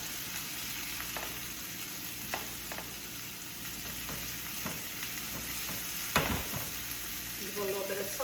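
Red onions fry in oil in a pan with a steady, close sizzle, broken by occasional stirring scrapes and clatters.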